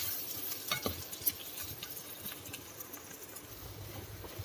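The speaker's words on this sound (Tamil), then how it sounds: "தக்காளி நல்லா மசிஞ்சு வர வரைக்கும் இது வேக வைக்கணும்" Chopped tomatoes with salt sizzling and cooking down in a pan for kara chutney, a steady hiss with occasional scrapes and clinks of stirring throughout, no talk.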